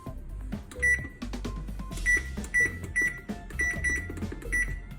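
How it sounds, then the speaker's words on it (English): Several short electronic button beeps ring out as a kitchen oven timer is set while baking homemade biscuits, with a low appliance hum and light handling clatter underneath. "All right, let's set our timer. We'll start with 10 minutes. So hit timer."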